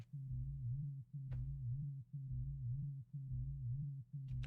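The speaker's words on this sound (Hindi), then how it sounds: "ये है लो साउंड।" A deep, steady low tone, EQ-boosted in FL Studio, repeats in short sustained phrases with brief gaps, smooth and close with nothing else heard.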